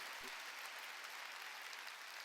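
A church congregation at a Wednesday worship service claps together in broad, steady applause that fills the room, with a brief low thump near the start and no voices over it.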